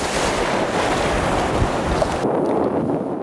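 Strong waves wash against the shore of the Dead Sea in a steady, loud surging roar mixed with wind buffeting, cutting off abruptly near the end.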